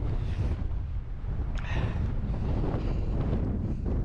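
Strong wind buffets the microphone on an open fell top at Whitestones on Newton Fell, a constant loud roar with rumbling gusts and no speech.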